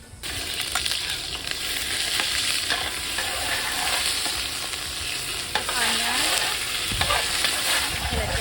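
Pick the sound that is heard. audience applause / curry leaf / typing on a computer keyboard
curry leaf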